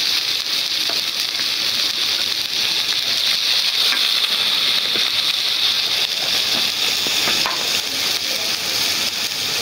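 Ginger garlic paste with spices sizzling and frying in a pan, a steady, loud hiss with occasional stirring scrapes, close and continuous without talk.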